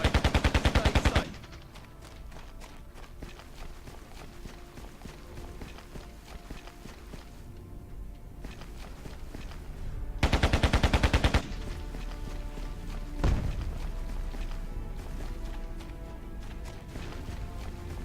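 Cannon artillery fire in the Carrier Command video game: two rapid, loud bursts of repeated shots about nine seconds apart, with a sharp single blast shortly after, over a low battle drone.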